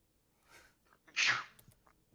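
A single sharp sneeze after a faint intake of breath, from someone at a tabletop role-playing game session, fairly close and moderately loud in an otherwise quiet room.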